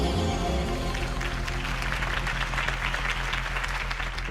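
A crowd claps and cheers for a campaign speech in the Batman Telltale video game, a dense, sustained wash of applause filling the scene at moderate loudness and fading slightly toward the end.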